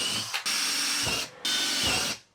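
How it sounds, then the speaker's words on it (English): Power drill boring holes into an Audi A3 side skirt, two sustained bursts of whirring separated by short pauses, close and clear with no talking. "So, alright, let's go and drill some holes."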